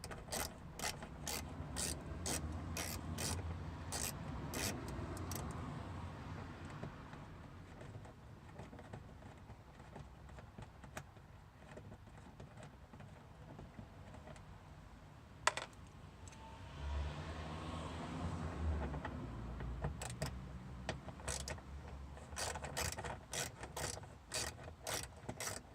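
Screws coming out of the engine service tray of a Honda Civic Type R (FK2), heard as rapid ratcheting clicks in repeated bursts with soft mechanical rubbing and a sharp knock midway, close and steady with no talking.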